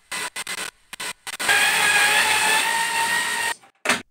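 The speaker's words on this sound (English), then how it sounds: "The mounting plate is attached to the ceiling with 3 to 4 wood screws. Let's remove them one at a time." A power screwdriver backs wood screws out of a ceiling light mounting plate, short whirring bursts followed by one longer sustained whine and a final brief burst, close and loud.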